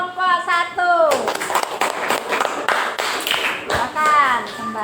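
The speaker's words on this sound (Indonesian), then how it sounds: "beri aplaus buat kelompok 1" Classroom applause for group 1, a burst of quick scattered claps from students lasting a few seconds, with a voice talking before the clapping, during it and again near the end.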